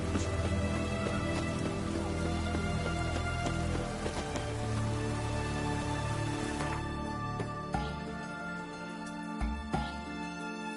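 Steady rain in The Witcher 3 on PS5, a constant wash of falling water and pattering drops in a town, with layered ambient tones underneath and no talking.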